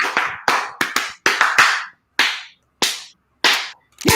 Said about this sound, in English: That's the longest clap.